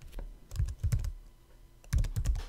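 Code is typed on a computer keyboard in quick bursts of close, crisp key clicks, with a short pause between two clusters of keystrokes.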